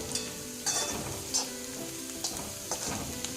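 Sliced bitter gourd frying in a pan for gojju, a steady crackling sizzle with periodic scraping stirs.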